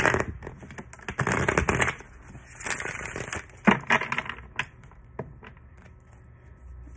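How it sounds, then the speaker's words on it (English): Tarot cards are shuffled by hand, close and loud, in dense papery riffling bursts for a few seconds, then scattered lighter taps and flicks. "I'm gonna shuffle and then we're gonna get started."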